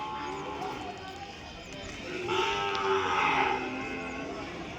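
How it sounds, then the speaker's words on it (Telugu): Calves lowing at a busy Sunday livestock market in Kodad, with a drawn-out moo rising in the middle over a background of people talking and general market bustle. "మంచి దూడలు బ్రదర్ చూడండి"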